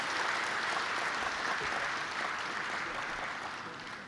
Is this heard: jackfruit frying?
no